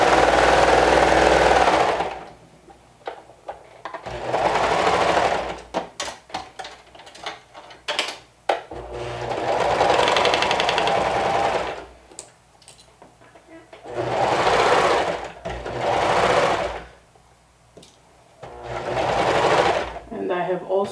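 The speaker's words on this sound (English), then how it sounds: "Give your serger a chance to adjust its tension if it's automatic, because it will go through a lot of layers." A serger overlocker stitching slowly through a thick stack of fabric layers, running in repeated bursts of a few seconds each, separated by short pauses.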